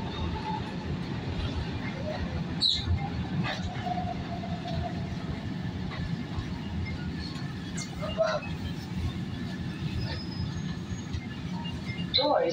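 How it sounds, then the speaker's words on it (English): A Market-Frankford Line subway train sits at 13th Street station with steady, loud rumble and hiss, light rattles and a few faint squeals and clicks throughout. "69th Street train making all stops."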